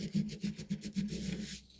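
Hand sanding of the small tabs on a stitch kit, a rapid rhythmic back-and-forth rasp of about eight quick strokes, close and fairly loud, with no talking over it.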